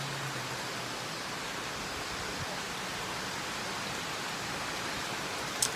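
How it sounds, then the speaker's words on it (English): Rain falls outdoors during a tropical storm, a soft, even hiss of steady downpour heard alone at low volume throughout. "It's raining."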